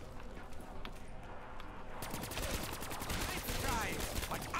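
Rapid gunfire bursts from a weapon in Black Ops 3 zombies, the Ascension map, crackling densely and steadily in the second half over a background of game noise.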